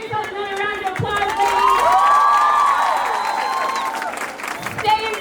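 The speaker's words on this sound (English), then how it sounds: "Give yourself another round of applause" An audience of women and children in Kenya breaks into applause and cheering, a dense continuous clatter of clapping with high shouts and whoops layered over it for several seconds, fairly loud and close.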